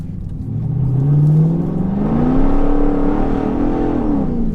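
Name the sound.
Mercedes-Benz SL55 AMG accelerating, spinning its rear tyres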